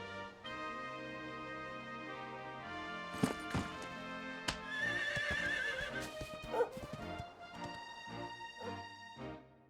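A horse in the Dragon Quest XI video game neighs loudly, with hoof clip-clops and game music tones around it, no talk.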